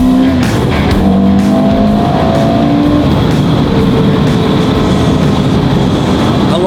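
A Porsche Carrera GT is driven hard, its engine roaring loudly and continuously as revs rise and fall through gear changes, with steady road and wind noise and no talking.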